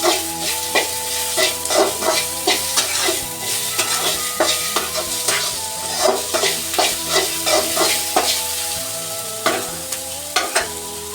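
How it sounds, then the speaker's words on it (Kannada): Ginger garlic paste frying and being stirred in a pan for spicy chilli chicken, a steady sizzle broken by frequent scraping strokes of a spoon throughout, close and fairly loud with no talking. "ನಾನು ಒಂದು ಚಮಚದಷ್ಟು ಶುಂಠಿ ಬೆಳ್ಳುಳ್ಳಿ ಪೇಸ್ಟ್ ಹಾಕೊಂಡು ಫ್ರೈ ಮಾಡ್ಕೊತಾ ಇದ್ದೀನಿ"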